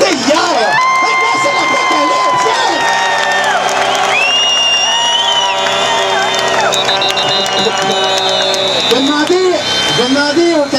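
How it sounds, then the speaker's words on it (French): A burlesque show audience cheers and whoops loudly, with applause and shouts forming a steady, dense roar that fills the whole stretch. "pouvez-vous applaudir, 1000 contre 1000, c'était hier!"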